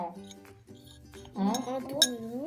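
A spoon stirs sand and water in a glass, clinking against the sides with light scraping taps, while a person talks over it.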